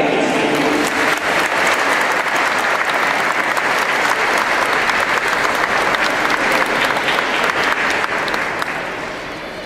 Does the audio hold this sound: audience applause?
yes